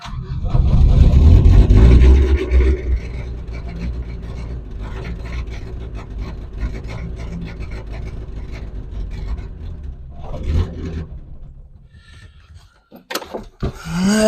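Old Renault Express van engine idling roughly just after starting, a low uneven rumble that stays steady and fairly loud before fading near the end, with brief clicks and handling noises at the close.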